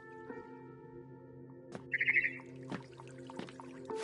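A barn swallow returning to her nest in the video game What Remains of Edith Finch gives a brief, bright burst of chirps around the middle, set against a low, steady game ambience.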